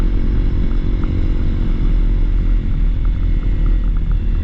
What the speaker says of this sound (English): I can't keep my bike running all night, and revving it all night.